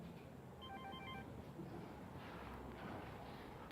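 A phone rings during a fire regulations talk: a brief run of faint electronic beeping tones near the start, under steady hiss and room noise.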